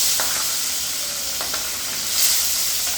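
Pabda fish hits a hot pan of oil with a loud, steady sizzle and hiss, with a few soft clicks of the pan or spatula scattered through the constant frying.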